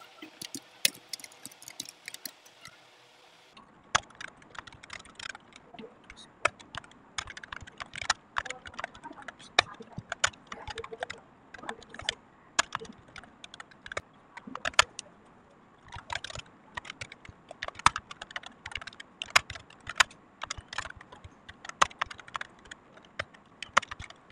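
Someone types Python code on a computer keyboard with quick, irregular clusters of close key clicks and brief pauses, continuing steadily throughout.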